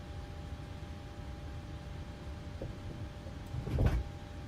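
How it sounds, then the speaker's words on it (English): Boeing 737 MAX 8 cabin door closing in Microsoft Flight Simulator: a faint, brief mechanical thud and rumble rising briefly over a steady hum of cabin noise. "That was the door closing."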